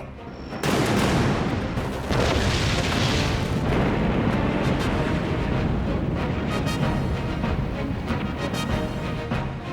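Cannon salvo explosions roar through an anime sky battle between ships, a loud, sustained barrage of booms that begins abruptly and continues without pause.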